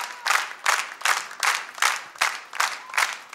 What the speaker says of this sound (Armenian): Արման վայնիվ ծափահարությունները